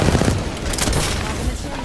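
Rapid video game gunfire in Apex Legends, a dense, loud burst of automatic shots rattling continuously without pause.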